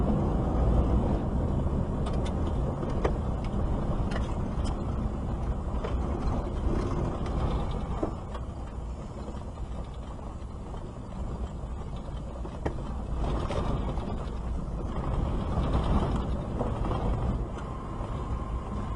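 A car rolls off the highway onto a rougher road toward Parachilna Gorge, with a steady low road rumble and scattered rattles and knocks throughout, close and continuous.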